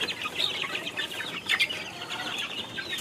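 Native backyard chickens cluck and chatter busily while being fed, a dense close flock with a few sharper calls and faint wing flutters, with no one speaking.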